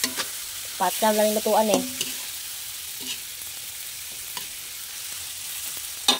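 Shrimp and squid frying in a pan are stirred with a utensil, giving a steady sizzle broken by sharp scraping clicks, while someone speaks briefly near the start.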